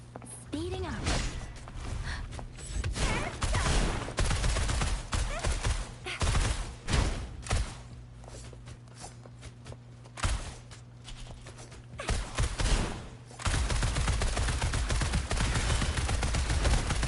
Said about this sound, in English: We rapid firing bullets